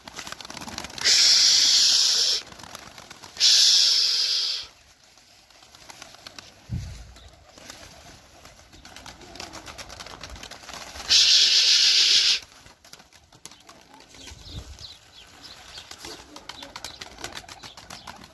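Young pigeons flying and landing, with three loud bursts of wing flapping separated by quieter gaps, some low thumps, and faint background noise outdoors.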